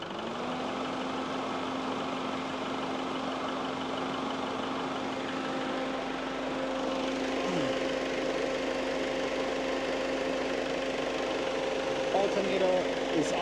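A vehicle engine idles at a steady, even pitch while an air conditioner runs alongside it, producing a constant moderate hum with a faint whine on top and no speech.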